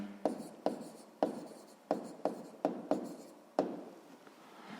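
Pen or chalk strokes tap and scratch in a series of about eight sharp, close hits, each followed by a short rasping drag, written out by hand while working a math problem with no voices.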